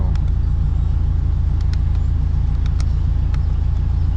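A 2G Mitsubishi Eclipse driven gently at low throttle, its engine a steady low rumble with road noise throughout and a few faint ticks over the top.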